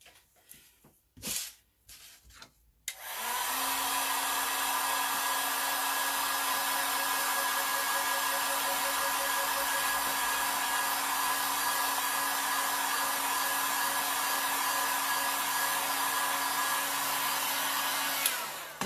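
A hair dryer drying paint on a board switches on after a few soft handling knocks and then runs steadily and loudly with a constant whine to the end.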